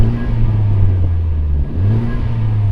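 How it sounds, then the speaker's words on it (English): Honda Civic Type R engine revving up against a soft limiter, a steady close mid-pitched drone that holds, dips briefly, then climbs back to the same level, with no voices. "Can you rev up the Civic, please?"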